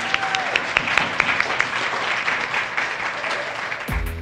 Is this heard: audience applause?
yes